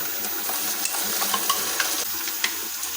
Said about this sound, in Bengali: এটাকে আমরা ভালোভাবে নাড়িয়ে নেব।